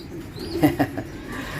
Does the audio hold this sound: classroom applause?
no